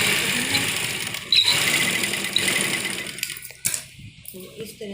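A sewing machine stitches the front and back pleats of a kurti, a steady mechanical whirring that runs for about three seconds and then stops, followed by a few clicks and handling sounds.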